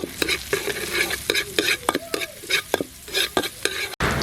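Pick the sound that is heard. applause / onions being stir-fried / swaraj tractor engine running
onions being stir-fried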